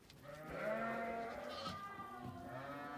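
A newborn lamb bleats on a village farm in Turkey, a faint, wavering cry lasting a couple of seconds at some distance, with no voices over it.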